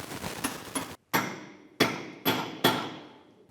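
Four sharp hammer blows jam a CV axle nut during a CV axle and outer tie rod replacement, each strike ringing out loud and close with a decaying tail, spaced irregularly after a brief silence.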